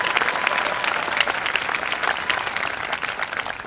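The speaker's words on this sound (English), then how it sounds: "I'd like to give another round of applause for my man, Jake Munch, the living legend himself." A graduation crowd at the Valhalla Class of 2018 ceremony gives the speaker Jake Munch a round of applause, dense, loud, continuous clapping filling the hall.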